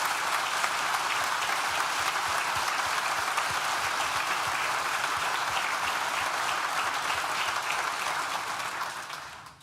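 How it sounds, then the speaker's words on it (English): A large audience at a university graduation ceremony breaks into a long, dense round of applause, steady and full throughout before easing off at the very end. "I think she deserves a round of applause for that."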